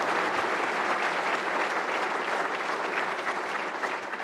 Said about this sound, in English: they deserve a great round of applause